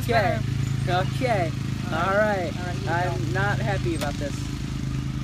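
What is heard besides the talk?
lawn mower running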